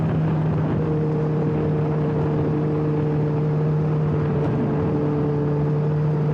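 A 2009 Honda CBR1000RR Fireblade superbike on a ride, its engine holding a steady droning hum under heavy wind rush.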